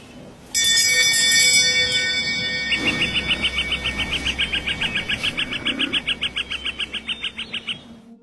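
A bell found in a forest rings, a bright metallic tone ringing out alone, then a rapid rhythmic series of repeated clear chimes that slowly fade, with faint background hiss.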